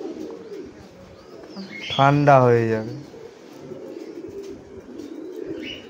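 Pigeons, including blue satinettes and their chick, coo softly and repeatedly at a pigeon farm holding many breeds, a low murmur running throughout, while a person speaks briefly and loudly near the middle.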